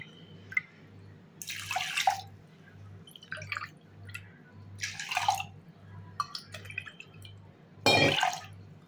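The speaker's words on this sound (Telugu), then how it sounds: "ఐదు గ్లాసుల నీళ్లు పోసుకుందాం" Water splashes and pours into a pot of rice and moong dal in four separate bursts, each a rushing gush, with a quiet electrical hum pulsing underneath.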